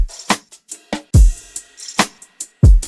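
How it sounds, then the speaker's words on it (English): A solo R&B drum loop plays with crisp hi-hats and shakers, a deep kick and rim clicks, all washed in reverb and run through EQ, with punchy, evenly spaced hits up close and no voices. "Then lastly, just added a kick and some rims to bring the drums together and bring them to life."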